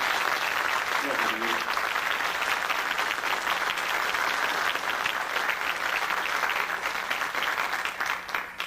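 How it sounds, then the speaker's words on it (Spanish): Audience applause at a UFO-study congress presentation, dense sustained clapping from a large room, loud and even from start to finish, with a brief voice near the beginning. "Quizá eso se lo debemos a Jorge Suárez, para quien yo os pido un tremendo aplauso."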